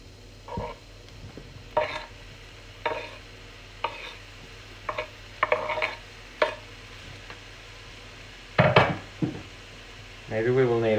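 Mushrooms tumble into a hot oiled frying pan with a few sharp clattering drops and faint sizzling, followed by stirring and scraping against the pan.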